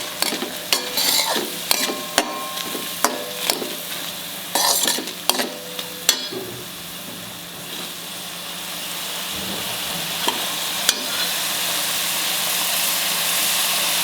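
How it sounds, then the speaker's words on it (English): Onions frying in a pan for a ridge gourd dish, first with a series of sharp stirring scrapes and taps, then settling into a steady, growing sizzle with an occasional clink. "Fry them till they are translucent."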